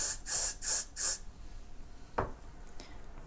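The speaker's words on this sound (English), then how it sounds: "Spray it with the freeze spray." Four short hissing bursts of freeze hairspray in quick succession, fairly close, followed by a single faint tap and quiet room noise.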